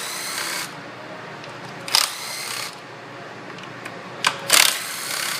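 Ratchet or tool work loosening 8mm bolts on the upper intake of a Ford Fusion 3.0L DOHC engine, a few short bursts separated by quiet pauses, close and without talk.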